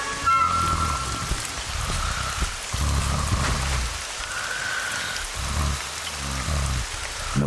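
Rain in a Telugu kids' cartoon falls in a loud, continuous wash, with low rumbling swells and faint tonal music underneath and no voices.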